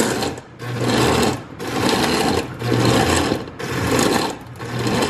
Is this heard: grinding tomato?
yes